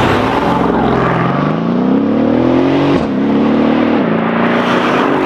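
A 2016 Mercedes-AMG S 63 Cabriolet's 585 hp V8 biturbo engine roars loudly under acceleration, pitch climbing steadily, briefly dipping at a gear change, then rising again, close and dominant.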